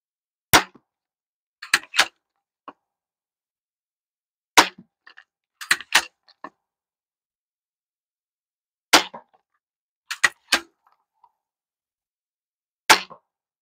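Steambow AR-6 Stinger 2 crossbow fires bolts at a target 13 yards away, each shot a sharp, loud snap followed by quick clacks and thuds, repeated about five times with long silent gaps between.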